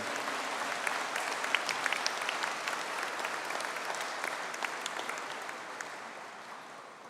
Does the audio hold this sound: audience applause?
yes